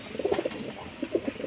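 Pigeons coo softly and nearby, a few low, burbling phrases repeating in short bursts, with no talk over them.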